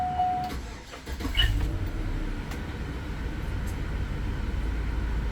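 A First Student van's engine cranking and catching, then settling into a steady low idle rumble close by, with a brief chime beforehand and no speech.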